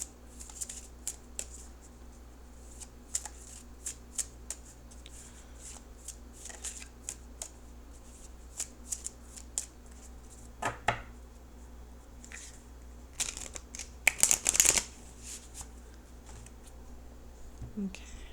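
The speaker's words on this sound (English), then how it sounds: "So why don't I shuffle for an outcome card?" Tarot cards being shuffled by hand, a long run of soft riffling and tapping bursts at close range, with a louder flurry of shuffling near the end and a faint hum underneath.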